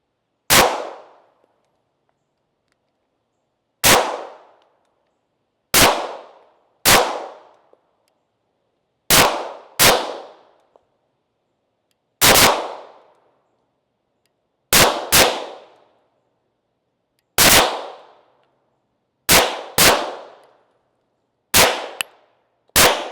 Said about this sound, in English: I've not shot this pistol, so we're gonna check it out.